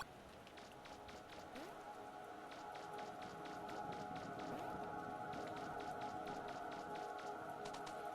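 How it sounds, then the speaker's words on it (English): Steady rain hisses throughout a street scene in the video game Hypnagogia, a continuous even wash with faint ambient tones and light ticking drops underneath. "I need to get out of the rain"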